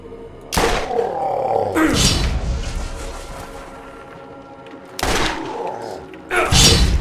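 Shotgun blasts in Borderlands, from a double Anarchy weapon: two heavy, booming shots about four and a half seconds apart, each with a sharp crack and a rumbling tail, loud and close, over a steady game background.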